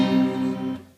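A guitar chord ringing out, a single sustained harmonic strum that decays and is cut off after about a second.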